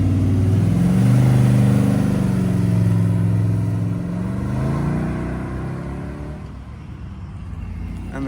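An 1980s V8 supercar at a classic car and bike breakfast outside a pub revs with a deep, throaty engine note, loud and close, swelling and then easing back as it idles lower.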